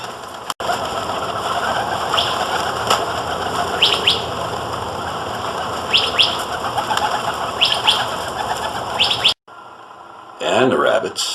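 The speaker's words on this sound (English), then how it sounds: "I enjoy feeding pigeons in the backyard." Pigeons in a backyard, with soft repeated coos and flapping wings over a steady outdoor ambience, a louder flurry of wingbeats near the end.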